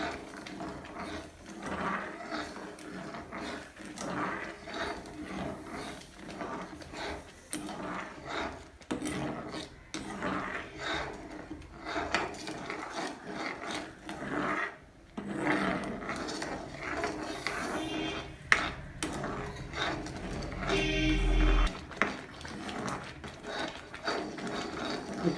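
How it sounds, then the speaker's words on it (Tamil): Semolina and sugar being stirred in a pan for rava kesari, a dry scraping and rasping of the spoon against the pan, repeated in uneven strokes with occasional sharper knocks, fairly faint and alone. "அந்த 1 டம்ளர் சர்க்கரையை கொஞ்சம் கொஞ்சமாக போட்டு கிண்டணும்."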